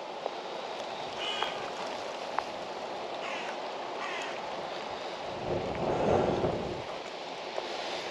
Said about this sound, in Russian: Видите, ветер поднимается.